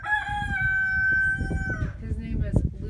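A rooster crows nearby at an animal sanctuary, a long loud call held for nearly two seconds, then people talk and hens cluck softly around it.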